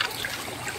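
Water pours steadily over a Kawasaki HD3 125 motorcycle during a wash, giving a brief, continuous splashing hiss up close with no talking.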